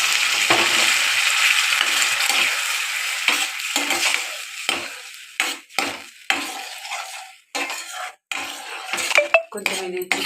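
A spoon scrapes and clinks as yogurt is stirred into cauliflower 65 in a pan, with intermittent strokes over a soft background sizzle, close and fairly loud, no talking.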